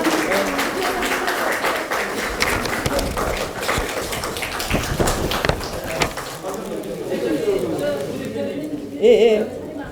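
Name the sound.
audience applause for the new deputy leaders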